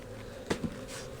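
Honey bees drone in a low steady hum at a hive entrance, with a couple of sharper buzzes as single bees fly close past, quiet and near.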